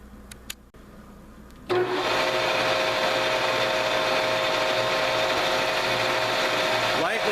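A metal lathe cuts the outside chamfer on a steel screw jack base, a steady broadband machining roar with a constant motor hum starting abruptly after a quiet lead-in and running evenly to the end.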